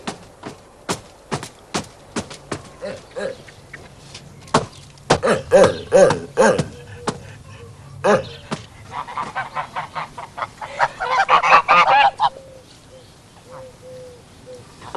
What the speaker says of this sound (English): I keep geese and chickens because I've got my own eggs then for cooking the cakes